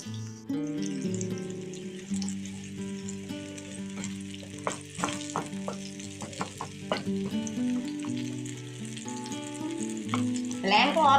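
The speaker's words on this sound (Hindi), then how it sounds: "अब कट किया हुआ जो प्याज है वो हम सारा इसमें डाल के," Chopped onions fry in ghee in a pan over a medium-low flame, giving a continuous close sizzle with some stirring, and steady tonal music plays underneath.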